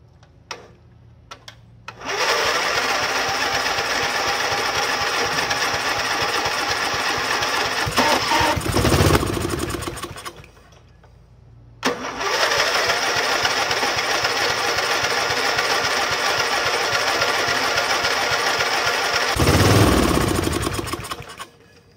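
An old Snapper lawn mower that has sat unused for five years sputters to life and runs loudly for several seconds, cuts out, then starts again and runs steadily before stopping, heard up close.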